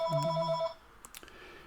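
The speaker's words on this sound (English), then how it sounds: "I'm going to ignore that phone. There's nobody home. It's going to ring for a little bit." A home telephone rings with a single electronic trill for under a second, loud and close, then falls silent with faint room noise and a few small clicks after it.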